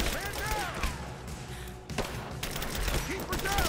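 Gunfire in the video game Rise of the Tomb Raider, rapid bursts of shots and thuds from a firefight, fairly faint and continuous with a sharp break midway, mixed with in-game voices and other battle noise.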